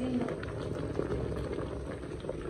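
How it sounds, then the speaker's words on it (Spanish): Water at a steady boil under a steamer pot used to cook corundas gives a continuous bubbling, rolling sound that stays even and close throughout. "como ya está hirviendo el agua de abajo, pues se cose con el vaporcito"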